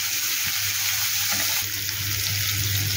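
Chopped onions fry with turmeric in a pan over a lowered gas flame, giving a steady, close sizzling hiss that runs unbroken throughout.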